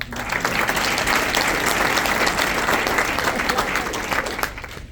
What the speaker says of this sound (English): So I just wanted to give them a round of applause.